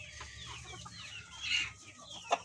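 Soft clucking from backyard chickens nearby, a few scattered calls with one sharper squawk near the end, quiet farmyard ambience.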